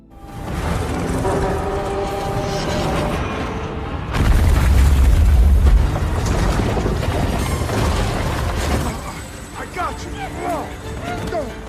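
Heavy rumbling booms and crashing debris from a collapsing building roll on continuously, with a deep thunderous blast in the middle amid dense, chaotic action noise.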